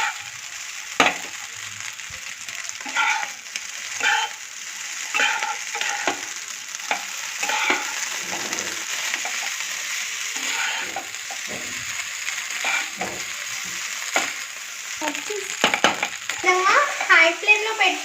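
Homemade noodles tossed and stirred fast in a hot pan over a high flame, a steady close sizzle with repeated scraping and clattering strokes, fairly loud, with no speech over it.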